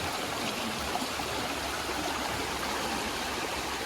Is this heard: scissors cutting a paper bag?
no